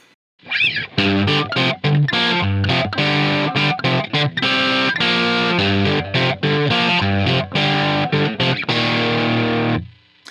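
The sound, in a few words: distorted electric guitar riff with split crossover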